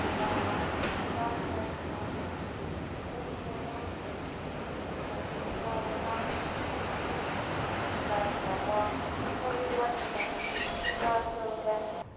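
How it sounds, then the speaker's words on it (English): A British Rail HST power car on a test run from Derby Works rumbles past steadily with broad rolling noise, and high metallic wheel squeals rise near the end. "Here is an unusual view of an HST power car seen on a test run from Derby Works prior to repainting."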